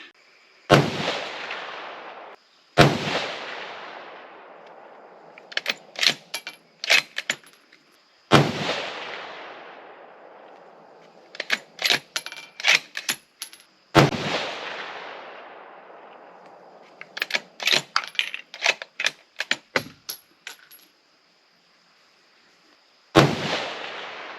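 Savage 110 Desert Tactical rifle in 6.5 Creedmoor fires RL16 handloads outdoors: four loud single shots spaced several seconds apart, each followed by a long fading echo and clusters of sharp clicks from working the bolt between shots.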